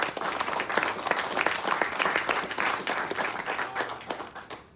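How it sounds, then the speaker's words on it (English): Audience applause at an outdoor-travel talk, a short burst of many hands clapping at once, full and steady before tapering off at the end. "So just a quick round of applause for Nancy and the Great Outdoor Store."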